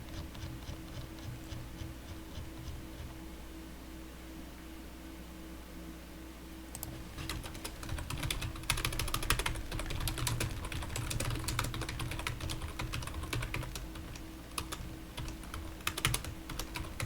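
Rapid clacking keystrokes on a computer keyboard, sparse and light at first, then a dense, loud burst of fast typing near the microphone over a steady low hum.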